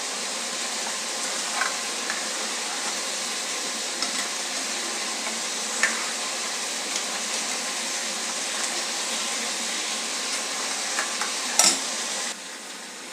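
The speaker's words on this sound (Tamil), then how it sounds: "இது சர்க்கரையோடு சேர்ந்து நல்லா கொதிக்கட்டும்." Rice milk payasam with sugar simmering in a pot, giving a steady soft bubbling hiss with a few faint clinks and light stirring ticks throughout, fairly quiet and close, without any voices.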